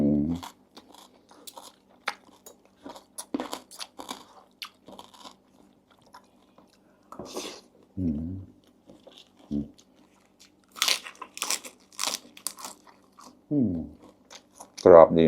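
Crunchy bites and chewing of a spicy Thai canned fish salad come close up in irregular bursts, with pauses between mouthfuls and faint background murmur.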